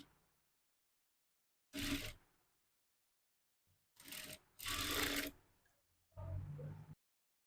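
Sewing machine stitching the shoulder joint of a baby frock, running in four short bursts of rapid mechanical whirring and clatter separated by pauses, close up with no voices.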